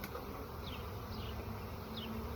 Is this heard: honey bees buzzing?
yes